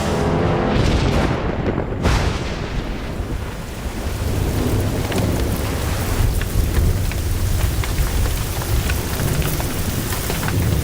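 Torrential jungle rain pours steadily in a dense roar, with deep rumbles of thunder rolling through, loud and constant with no voices.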